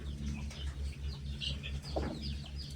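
Chickens, including a Black Australorp rooster and Rhode Island Reds, cluck and murmur softly nearby in a coop, with a low steady hum underneath and a few brief bird calls, faint and close.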